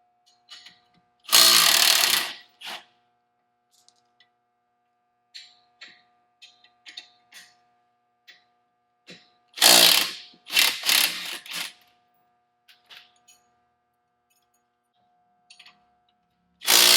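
A power tool backs out the 15 mm bolts holding a Hess knuckle to a factory trailing arm: several short, loud whirring bursts at intervals, with light clanks and tool handling between them and no talk.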